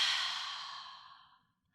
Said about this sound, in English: really just make a sound, like a ha sound as you let it out